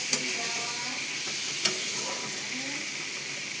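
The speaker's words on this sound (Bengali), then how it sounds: "এবার আমি ভালো করে এই মশলাটা এই পটলের গায়ে মাখিয়ে দেবো" Pointed gourd being stirred and coated with spices in oil in a pan, a steady soft sizzle with a couple of sharp scraping clicks, fairly quiet and without talk.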